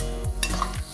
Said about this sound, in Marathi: आलं लसणाचा कच्चा वास जाईपर्यंत आपण हे ढवळून घेऊया